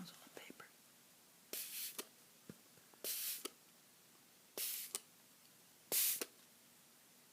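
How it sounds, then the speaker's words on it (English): Four sharp hissing bursts of a spray bottle misting onto paper, spaced a second or so apart, with faint clicks and rustles in between. "I love the sound of a spray bottle."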